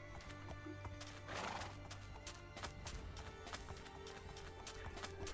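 A horse whinnies and its hooves clip-clop in Minecraft, the neigh rising clearly in the middle while rhythmic hoofbeats and game sounds continue throughout.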